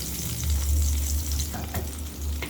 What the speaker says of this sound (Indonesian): Langsung aja pisangnya kita panggang di atas fry pan ini.